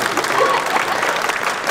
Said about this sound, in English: I love all this polite golf clapping.